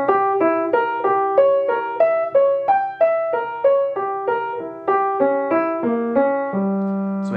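Solo jazz piano plays a Beethoven-inspired diminished pattern anticipated by one eighth-note triplet, with clear repeated chord stabs in a steady triplet rhythm, close and moderately loud, ending on a sustained low chord.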